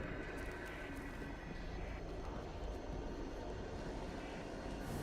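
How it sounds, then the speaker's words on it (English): Jet aircraft roar overhead in the video game Destiny 2, a continuous loud engine rumble lasting several seconds with no speech. "Jet planes."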